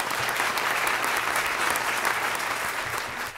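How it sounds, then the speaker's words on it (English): Sustained audience applause for a performing duo at an anniversary concert gala, dense steady clapping from a large crowd that continues throughout without pause. "Let's give them another round of applause"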